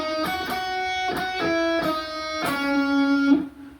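Electric guitar playing the chorus lick of a song: a short run of clean, sustained single notes with slides and pull-offs, close and alone, ending on a held note.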